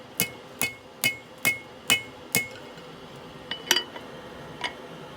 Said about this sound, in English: I'm just knocking those edges off as I go, sort of, and I'll probably form them back up